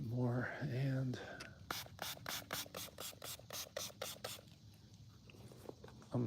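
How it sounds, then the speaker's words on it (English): Spray bottle misting water onto a painting canvas, about a dozen quick sharp hissing spritzes in a regular rhythm, close and distinct, after a brief squeaky sound at the start. "we'll go ahead and spray this canvas so we can move that paint around a little bit more"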